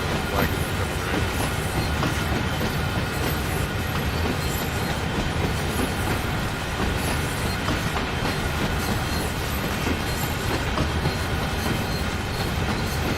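Train wagons rolling past in a train simulator game, a loud continuous rumble of wheels and rail noise with faint clickety-clack and squeal, steady throughout with no clear break.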